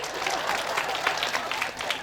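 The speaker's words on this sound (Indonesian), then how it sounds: "Tepuk tangan heula jang tukang nguseup." An audience at a Sundanese-language Islamic lecture breaks into lively applause, a dense burst of clapping from a crowd that carries on evenly for a couple of seconds.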